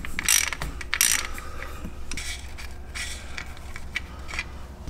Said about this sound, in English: while that thing is draining, we can go ahead and pull the fill plug as well.